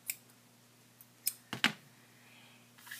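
A few quick, faint snips of scissors cutting through a cord in a quiet room, clustered together with short pauses between them.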